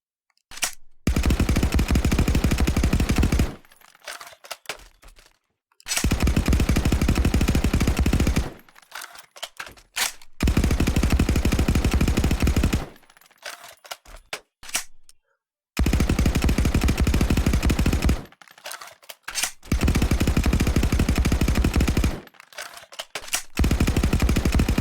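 M4 rifle fire in the shooter game Contractors, loud close-range bursts of rapid automatic fire lasting a few seconds each, separated by short pauses, repeated about six times.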